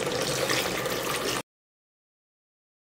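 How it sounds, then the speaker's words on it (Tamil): Water pours steadily into a cooking pot while seeraga samba chicken biryani is being prepared, a continuous splashing rush lasting over a second before it cuts off into silence. "இப்போ தண்ணி சேர்த்துக்கலாம்."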